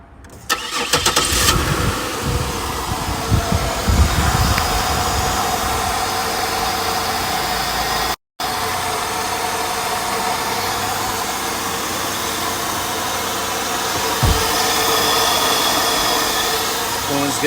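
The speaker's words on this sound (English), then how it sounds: "First startup on the Buick after the coolant hose replacement." A 3800 V6 in a 2000–2005 Buick Park Avenue cranks briefly and catches right after an upper radiator coolant hose replacement, then settles into a steady, smooth idle that continues close by.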